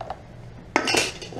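Stainless steel scrap pulled from a rice cooker clinks and clatters in a short, close burst of metallic knocks midway through, after a quiet stretch.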